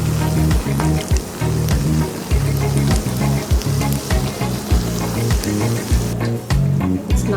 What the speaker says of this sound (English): You can see the bubbles coming out, so that means it's frying really well.